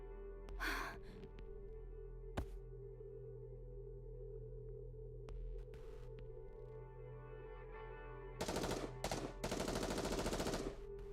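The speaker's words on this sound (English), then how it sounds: "there's the sound of gunfire and screams fill the streets" Gunfire in the NIKKE video game, with bursts heard near the start and a longer loud volley toward the end over a steady background hum, no talking.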